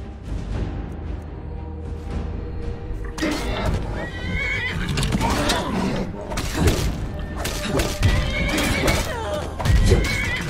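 A horse in the video game The Elder Scrolls V: Skyrim whinnies repeatedly over clip-clopping hooves and thuds during a raid on a gold transport, with loud bursts of neighing rising and falling across the scene.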